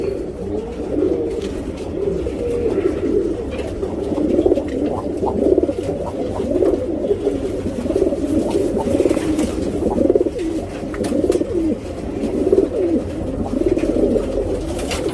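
Pigeons, offered as a group of three for sale, cooing nearby in a steady, low, overlapping murmur of throaty calls from several birds throughout.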